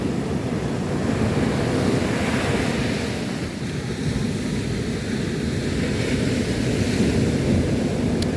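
Big ocean waves surge and crash in a steady, loud roar along a flood-control seawall, mixed with gusting wind buffeting the microphone, with no break in the wash of surf.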